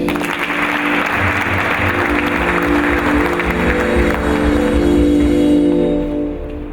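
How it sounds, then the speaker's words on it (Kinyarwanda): A church congregation applauds loudly and steadily for several seconds, the clapping dense and continuous before fading slightly at the end. "dukomere Imana amashyi"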